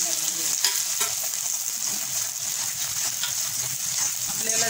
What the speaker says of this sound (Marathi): तेल आपलं छान गरम झालेलं आहे, 1/2 चम्मच आपण जिरा घालूया आणि 1/2 चम्मच राय, तमालपत्र, दालचिनी, हिरवी वेलची आणि लवंग